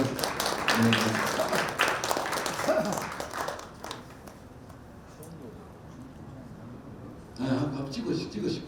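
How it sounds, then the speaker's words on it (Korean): Brief applause at a school centennial commemorative ceremony, clapping mixed with talk at the start, then fading into quieter room sound before voices return. "박수 부탁드립니다."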